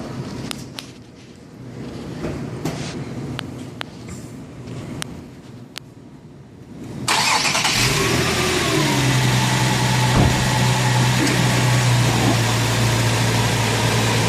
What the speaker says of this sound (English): Okay, so we're going to start the car.